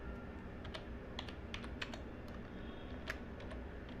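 Steady typing on a computer keyboard, key clicks in brisk irregular runs over a dense, constant background hum, with no talking.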